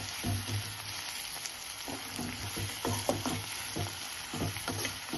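Onions sizzle steadily in a pan for chitranna, with a constant close hiss and occasional soft stirring scrapes and no voices.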